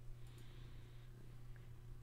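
A cat purrs in a low, steady, continuous rumble, quiet and close, with no other sounds.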